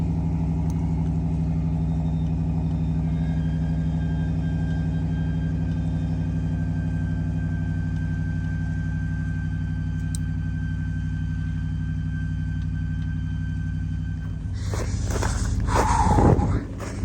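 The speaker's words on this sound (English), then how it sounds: "Truck started up okay though, as you can see." A Ram 1500 pickup truck engine idles after a cold start at about 40 below wind chill, a steady, low droning rumble for a long stretch, then a brief burst of louder rustling and knocking near the end.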